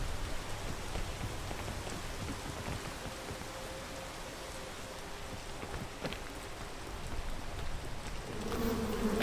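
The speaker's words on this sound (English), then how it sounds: "I actually wanted bees on top of me while I can't get away from them." A swarm of bees drones in the video game PEAK, a dense, buzzing hum with rain-like patter, steady and fairly faint throughout with no voices.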